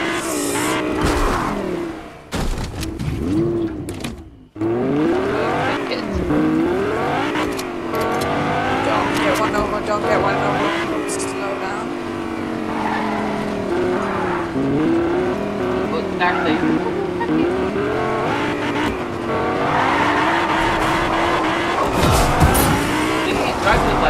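A car in the Fortnite video game drives fast with engine revving and tires squealing through skids, loud and continuous while players talk excitedly over it.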